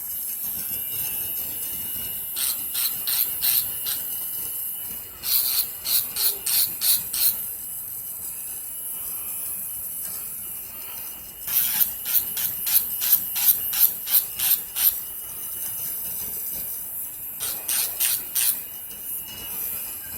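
A small electric nail drill whirs and rasps in short repeated bursts of filing, with quieter gaps between, close up and steady.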